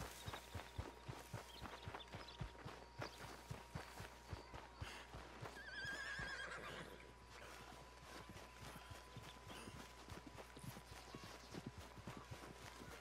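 Horse neighs and clip-clopping hooves in the Red Dead Redemption 2 video game, a steady run of hoofbeats with a whinny partway through, over a low continuous hum and faint game ambience.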